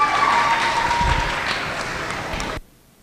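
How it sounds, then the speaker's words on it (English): Crowd applause for goat show exhibitors at the 2021 Berkeley County Youth Fair, a loud, dense burst of clapping that fills the arena for over two seconds and then cuts off abruptly. "Give them all another round of applause"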